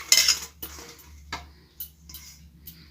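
Fenugreek leaves, chilli and ginger mixed by hand in a bowl, producing close, sparse clinks and scrapes against the dish with short pauses between them.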